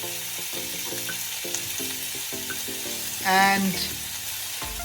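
Cod frying in a pan with mushy cooked tomatoes and spices gives a steady sizzle, with soft stirring scrapes and a brief louder burst midway; a voice briefly speaks.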